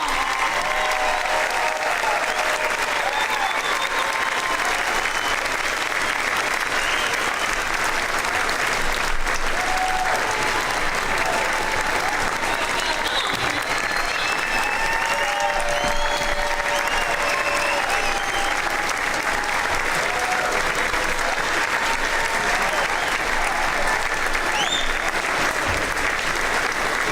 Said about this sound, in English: Let's give our class of 2019 a round of applause.